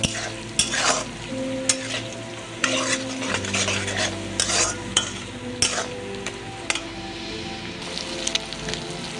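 Pumpkin and chilli powder stirred and fried in a pan, with a steady close sizzle, spatula scrapes and clinks against the metal, and a low background hum throughout.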